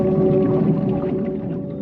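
Humpback whale vocalization: a sustained, moaning underwater call with steady tonal bands, loud and close, holding throughout with no other sounds.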